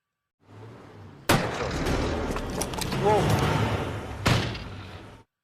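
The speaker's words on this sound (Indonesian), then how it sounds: "suara ledakan, yang nyatanya itu hanya sebuah knalpot mobil" A sharp, loud car exhaust backfire bang cuts in, followed by a rumbling, noisy stretch, then a second abrupt bang before the sound fades out.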